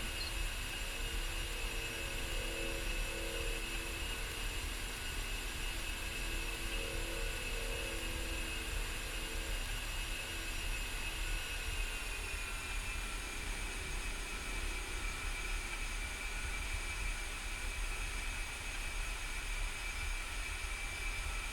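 An A-10C jet idles and taxis in the DCS flight simulator game, a steady, unbroken turbine whine and roar with a high tonal hum that shifts slightly in pitch partway through, constant and close throughout.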